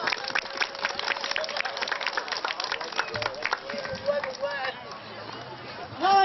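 A crowd claps steadily in dense applause, fairly close, tapering off and thinning toward the end.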